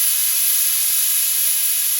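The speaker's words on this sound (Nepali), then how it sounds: "कभर लगाएर हाई हिटमा मैले 2 सिटी लाग्न दिएको छु।" Steam hisses steadily from a pressure cooker whistle on high heat while soybean chunk pulao cooks, a bright, continuous close rush with no talk.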